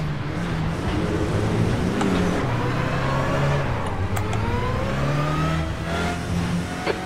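A Renault Clio Cup race car in the Assetto Corsa racing game at Autodrom Most, engine loud and close, revving steadily up through the gears with rising pitch sweeps and brief drops at shifts, continuous throughout.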